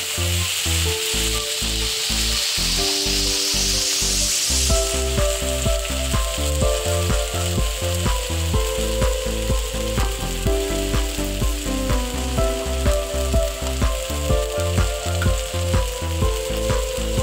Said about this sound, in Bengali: এবার আমি বেটে রাখা মশলাগুলো দিয়ে দিচ্ছি, দিয়ে একটু ভালো করে ভেজে নিচ্ছি।